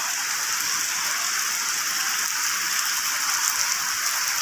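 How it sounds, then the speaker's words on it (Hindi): Steady, dense rain pours down without letup, a broad hiss of drops striking surfaces close by for the whole stretch. "ये देखो कितनी तेज़ बारिश है"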